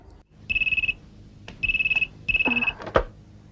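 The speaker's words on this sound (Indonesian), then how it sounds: "Sementara itu Budi di kantornya memulai duluan menelepon Supinah" A telephone rings in an office scene of a film, sounding as three bursts of rapid trilling electronic bell tones, loud and close, with clatter as the handset is picked up at the end.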